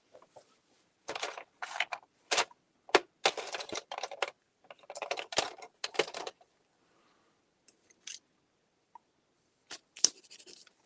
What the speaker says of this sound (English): It's really a little bulldog of a pen and has a little prickly nib.